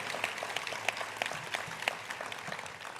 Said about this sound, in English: You can applaud for that, absolutely.